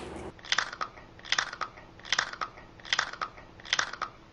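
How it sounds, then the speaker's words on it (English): Pretzel chips are crunched between bites of homemade black bean hummus, five evenly spaced bursts of crisp, close crackling chewing against a quiet background. "I'm having a little snack of pretzel chips and this black bean hummus that I made a few days ago."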